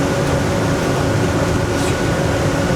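A Boston Whaler 330 Vantage boat's engines drone loud and close as the boat slows on a channel, with a steady broadband roar of motor and water rush and no voices.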